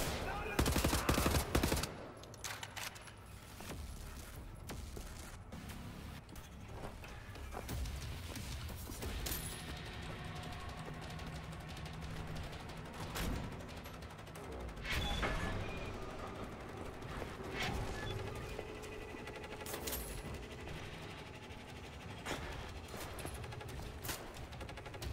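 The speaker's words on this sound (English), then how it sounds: "Shooting at me." Gunfire in Wolfenstein aimed at the player: sustained automatic fire mixed with sharper single cracks across the whole stretch, with a person talking over it at times.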